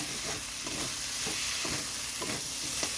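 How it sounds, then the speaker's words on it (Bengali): Prawns fry with spice paste and potato in a pan, giving a steady close sizzle broken by regular scraping stirs, about one every half second. "এই মশলার সঙ্গে ভেজে নিচ্ছি"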